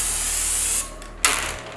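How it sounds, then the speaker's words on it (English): Cooking spray hisses onto a hot grill set to 450 in a short steady burst, a brief pause, then a second loud spray. "I'm going to spray the grill down."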